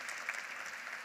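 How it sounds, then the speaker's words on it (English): Audience at a downtown partnership breakfast applauding keynote speaker Jay, a faint, even patter of many hands clapping at a distance, brief and steady. "Can we get another round of applause for Jay?"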